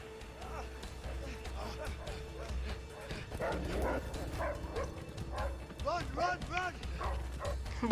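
Dogs barking in the prison escape video game A Way Out, repeated yapping barks building toward the end, heard under two players talking.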